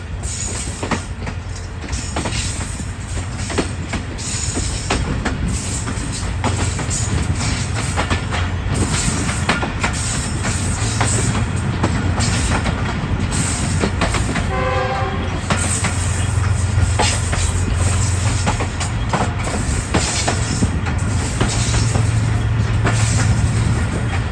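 The New Khushal Khan Khattak Express runs from Karachi to Sehwan, heard from on board as a loud, continuous rumble of a moving train with rhythmic wheel clatter and a brief squeal partway through.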